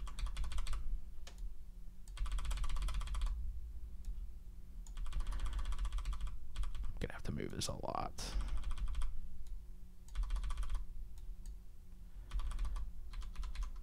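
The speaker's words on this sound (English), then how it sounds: "Loud keyboard, just smacking up against things." Loud, clattery keyboard typing comes in bursts with short pauses, along with a brief thump and a few spoken words.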